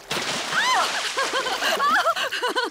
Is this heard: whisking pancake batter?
no